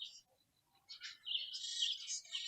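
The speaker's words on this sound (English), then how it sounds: "birds chasing each other up there" Small birds chirp and twitter faintly in the distance as they chase each other above a dry rural swimming hole, quick high tweets coming in scattered bursts, then a busier run of calls.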